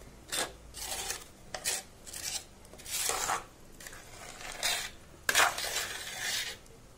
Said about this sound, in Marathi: हे उलटण्यानं असं खरडून घ्यायचं पातेलं चारी बाजूनं